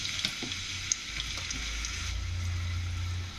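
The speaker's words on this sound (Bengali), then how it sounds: "পেঁয়াজটা আমি লাল করে ভেজে নেব।" Onions sizzle in hot oil in a pan, a steady, moderate hiss with a few small pops and crackles, with no voices over it.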